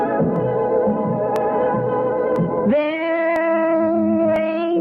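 Lo-fi home-recorded song played from a tape, a thin, boxy, slightly distorted take with a steady tone that shifts brighter partway through, carrying on without break under tape hiss.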